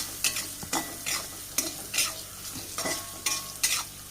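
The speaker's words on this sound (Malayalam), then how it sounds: "മഞ്ഞൾപ്പൊടിയുടെ ആ പച്ച സ്മെൽ മാറിനൊന്ന് നമുക്ക് ഇളക്കി കൊടുക്കുക" Onions frying in a pan with turmeric powder being stirred, about eight close, distinct scraping strokes in an uneven rhythm over a low sizzle, no voices.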